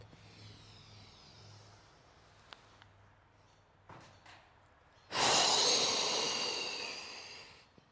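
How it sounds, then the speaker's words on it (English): During a morning yoga breathing practice, a long, strong breath is pushed out through the mouth, loud and close and lasting nearly three seconds, after a stretch of quiet with only faint small breath sounds. "Exhale through the mouth, folding over. One more with your own breath."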